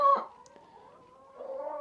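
A chicken clucks and squawks nearby in a short burst, then quieter, followed by more low clucking toward the end.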